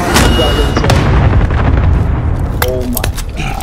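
Bombs exploding in Call of Duty Warzone, a dense barrage of loud booms and blasts rolling continuously through the scene, with a voice speaking over the explosions.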